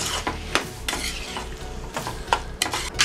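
Chopped tomatoes with salt being stirred in a hot frying pan, a spoon scraping in repeated rhythmic strokes over a soft sizzle, close and fairly loud with no speech.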